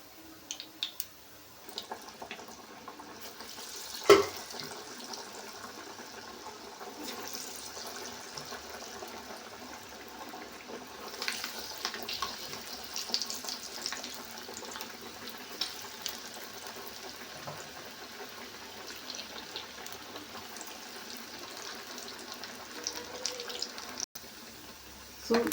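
Masala vada batter frying in hot oil, a steady low hiss and fizz running close and continuous throughout, with a brief sharp clatter near the start.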